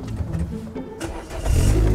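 A Peugeot 106 GTI cranks briefly after a few quiet clicks and catches, its engine bursting into a loud steady run for the last half-second.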